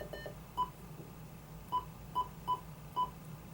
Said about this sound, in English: You can also adjust the key tones, that beeping you hear